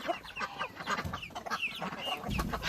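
Farm chickens clucking close by, a run of short, quick clucks and squawks at moderate volume with no talk.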